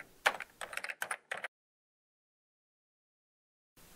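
Quick bursts of typing on a computer keyboard, a cluster of close, crisp key clicks for about a second and a half, then silence, with a faint sound starting again at the very end.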